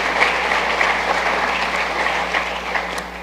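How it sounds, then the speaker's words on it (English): Audience at a 2023 university convocation applauding adjunct sport management faculty, steady dense clapping throughout from a large crowd, loud and continuous with no pause. "so let's give them applause too."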